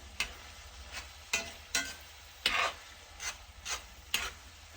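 A spoon stirs garlic powder and salt into a pot of Amish spaghetti soup, making about seven distinct scraping, swishing strokes in an uneven rhythm, close and moderately quiet, with no talking.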